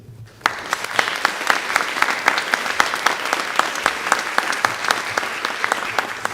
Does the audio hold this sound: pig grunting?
no